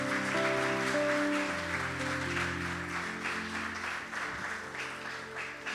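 A church congregation applauds with steady, moderately loud clapping while sustained musical tones from an instrument hold underneath and gradually fade.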